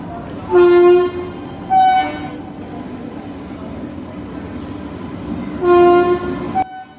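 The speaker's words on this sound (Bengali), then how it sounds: "আমরা এখন স্টেশনে চলে এসেছি, আর ট্রেনও ঢুকছে" A train sounds its loud horn in three long blasts, separated by a low rumble of the train rolling in close by.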